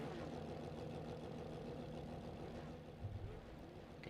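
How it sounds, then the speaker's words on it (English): Porsche Cup race cars in a racing video game at the Imola circuit hum as a steady, moderately loud engine drone, with the revs holding fairly even and no voices. "You can hear the revs rising in the background."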